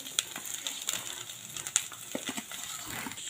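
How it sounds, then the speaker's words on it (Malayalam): Potato being stirred into chicken cutlet filling in a pan, giving soft scraping and light sizzling with small clicks of a spoon against the pan, steady and close with no talking. "ഉരുളക്കിഴങ്ങ് ഇട്ട് നമുക്ക് ഇനി നല്ലോണം മിക്സ് ചെയ്തെടുക്കാം"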